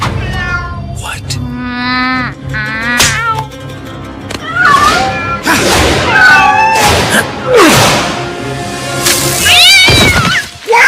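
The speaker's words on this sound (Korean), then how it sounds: "자기 유익을 삼는 그러한 고양이입니다" A cat meows repeatedly, with drawn-out, wailing cries coming in uneven bursts, close and loud, while people's voices are heard between and over the calls.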